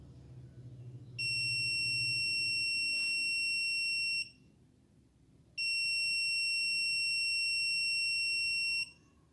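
Buzzer of a water level float switch circuit gives two loud, steady electronic tones of about three seconds each, separated by a short gap, with no talk.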